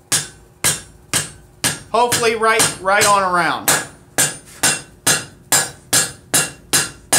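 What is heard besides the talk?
leather mallet shaping stainless steel coil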